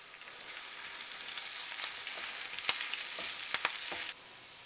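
Onions fry with curry leaves and asafoetida in a pan for a masoor dal tadka tempering, giving a soft continuous sizzle broken by sharp crackles and pops near the end, then stopping abruptly.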